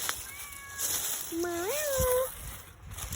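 A cat meows twice outdoors in an herb garden, a short high call followed by a longer rising-then-level meow, close and clear over faint background hiss.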